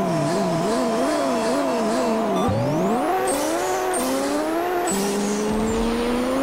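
A C6 Corvette with nitrous launches in the racing game Pixel Car Racer, its loud synthetic engine note climbing and dropping through repeated gear shifts, with whooshing nitrous effects.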